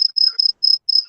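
Rhythmic cricket chirping in short repeated trills, steady and fairly loud, with brief gaps between bursts and no talking.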